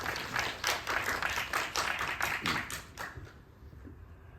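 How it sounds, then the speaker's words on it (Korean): Audience at a Korean film screening Q&A applauding, a brief burst of quick, close clapping that fades out after about three seconds. "박수 부탁드립니다."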